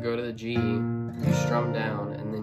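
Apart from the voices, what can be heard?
No everyday noise stands out behind the speech.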